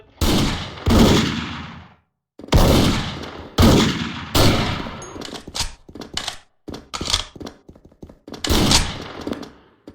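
Loud, close bursts of video game gunfire and booming explosions, some sustained and some short, with brief gaps between volleys.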